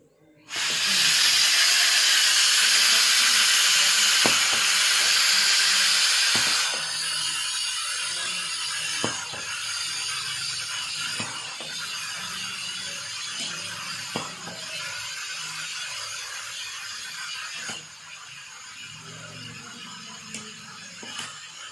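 A double acting cylinder on a pneumatic trainer works under compressed air: a loud rushing hiss of air for several seconds, then quieter venting with scattered mechanical clicks and knocks, and a final burst of hiss.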